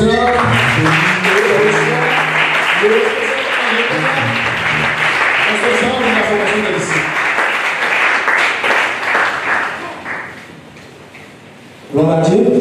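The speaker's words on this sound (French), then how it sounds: "On acclame le Seigneur" A church congregation at a baptism and discipleship graduation service applauds continuously, with voices cheering and singing over the clapping, before it fades to near quiet and then surges back briefly at the end.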